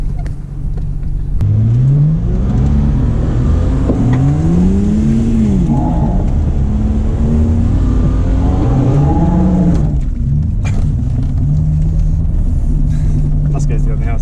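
A Holden VS Commodore revs loud and close while driving a lap, its engine pitch sweeping up and falling back through repeated gear changes, then settling into a steady drone.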